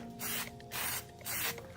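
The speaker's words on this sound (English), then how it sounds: "spray a little test to get all the, if there's anything clogged in the tip" A spray paint can hisses out a light test coat to clear any clog in the tip, three close, loud bursts of steady spray separated by brief pauses.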